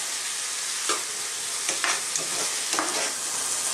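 Sarciado of tomatoes, water and egg cooking in a pan, giving a steady, loud sizzle and bubbling throughout, with a few brief stirring scrapes and no talking.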